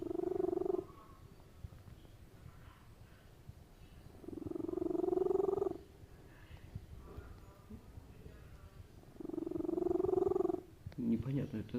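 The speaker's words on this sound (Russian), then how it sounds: "Непонятно, это он храпит так или мурчит." A cat purrs loudly with a snore-like rasp in three long, even bursts separated by quiet pauses while it breathes in; the sound is close and steady, with no talking.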